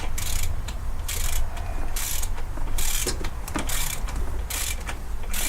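Bolts being tightened on an Outlander clutch with a hand ratchet, giving repeated bursts of close, loud ratcheting clicks in an uneven rhythm through a steady workshop background, with no talk.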